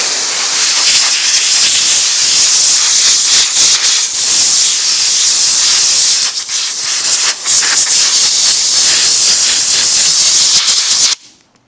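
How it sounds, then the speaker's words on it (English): Compressed air blasts dust off a filthy Kubota tractor cab air filter, a loud, steady close-up hiss with brief fluctuations in strength, stopping abruptly at the end. "So let's blow this off with some compressed air."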